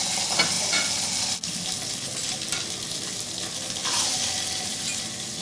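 Skate fish sears in a hot, oiled non-stick frying pan, giving a steady, loud, close sizzle and crackle that runs the whole time with a brief dip partway, no voices over it.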